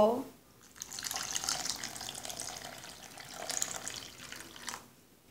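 Sugar syrup is poured from close by into a blended mango mixture for mango juice, a steady liquid trickle that lasts several seconds and tapers off at the end.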